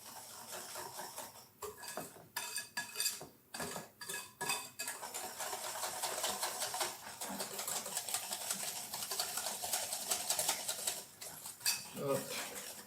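Yogurt cake batter and sugar are mixed in a bowl, with quick rhythmic clinks and scrapes of a utensil against the dish, close up, running in bursts and then more continuously.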